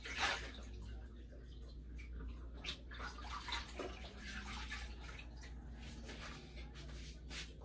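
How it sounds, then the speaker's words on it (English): A kitchen tap runs steadily while hands are washed after seasoning porgy fish for frying, a soft continuous splashing hiss with faint rubbing and shuffling, fairly quiet throughout. "I'm going to wash my hands."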